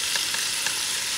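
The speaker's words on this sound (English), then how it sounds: "Add the garlic," Chopped garlic hitting a hot pan for a Brazilian feijoada of black beans with beef and pork, a brief, even, bright sizzle heard close and alone.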